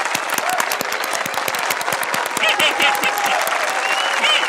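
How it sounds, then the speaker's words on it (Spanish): A crowd in a children's cartoon claps in steady, lively applause for a dance that continues throughout, with faint cheering voices mixed in. "¡Aplaudamos todos el fantástico baile de Pato!"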